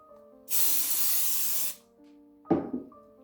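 Hairspray hisses from an aerosol can in one sustained spray lasting about a second, close and loud, followed by a short knock of handling.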